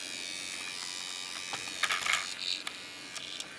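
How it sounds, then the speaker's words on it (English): Steering servos on a Vaterra Corvette RC car buzz in quick electric bursts over a constant high-pitched hiss, close but fairly quiet, with small clicks. "the steering servos make a hell of a lot of noise"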